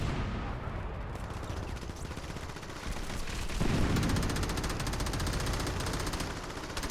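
Sustained automatic gunfire rattles in the video game Crackdown as people shoot at a dumpster, dense rapid bursts that swell louder partway through and carry on without pause. No talk is heard.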